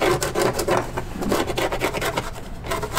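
A fingernail rubs back and forth over a surface, a close, rhythmic scratchy rasp of quick repeated strokes.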